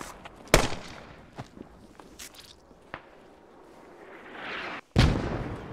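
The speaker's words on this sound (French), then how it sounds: "Quand t'entends l'artillerie comme ça, ça fait peur." Artillery fire in the war shooter Squad lands as two heavy, booming blasts a few seconds apart, with softer thuds and rumbling between them in a wide battlefield.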